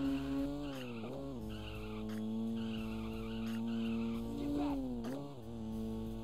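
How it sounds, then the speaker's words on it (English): Car tires squealing through corners in the racing game 187 Ride or Die, a steady engine drone with repeated screeching skids rising and falling over several seconds, loud and continuous with no talking. "For switching lanes and skidding around corners"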